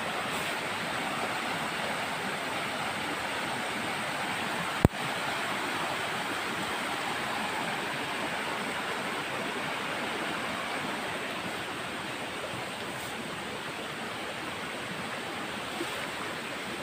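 Steady broadband rush of water flowing in a stream beside a wooded area, continuous and fairly close, with one sharp click partway through and no voices.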